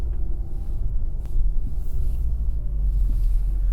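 Low, steady engine rumble from a 2016 Audi S3 pulling away in sport mode, heard from inside the cabin with a slight swell in revs and faint interior rattles.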